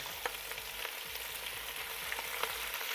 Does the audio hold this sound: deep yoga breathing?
no